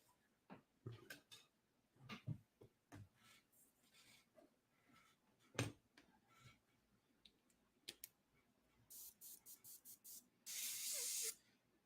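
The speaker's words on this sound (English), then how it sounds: "I've already got the old airbrush fired up, or I've got the compressor already" An airbrush powered by an air compressor gives short, faint hissing sprays near the end, after scattered quiet clicks and handling sounds.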